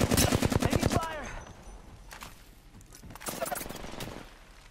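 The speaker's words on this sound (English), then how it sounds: "Taking fire!" Video game gunfire: a rapid burst of automatic shots opens the clip, followed by scattered shots and then another short volley amid game sound effects.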